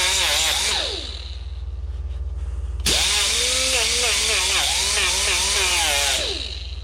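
A power grinder whines against car fender sheet metal on a 240sx being prepared for Bondo, cutting out briefly, then spinning up again with shifting pitch as it bites, with a constant low hum beneath.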